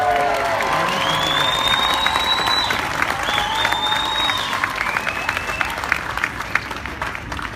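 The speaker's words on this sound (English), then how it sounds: "another cheer for Mikko Hirvonen!" Large crowd applauding and cheering loudly at a World Rally Championship awards ceremony for retiring driver Mikko Hirvonen, with steady dense clapping, scattered whoops and whistles rising above it throughout.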